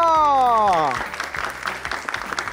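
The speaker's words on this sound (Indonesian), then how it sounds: "Tepuk tangan dong." High school students in a classroom break into applause right after a voice trails off, a steady clapping wash that fades slightly as it continues.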